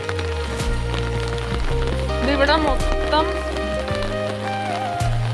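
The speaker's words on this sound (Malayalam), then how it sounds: "മഴ നിൽക്കാതെ ഇങ്ങനെ പെയ്തോണ്ടിരിക്കുകയാണ്" Heavy rain pours nonstop over an open paddy field, a steady hiss of drops beating down throughout while a person talks over it close by.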